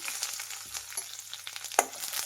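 Crushed garlic hits hot oil already holding mustard seeds, cumin and dried chilli, and a steady close sizzle and crackle follows with a few sharp pops, no voices over it.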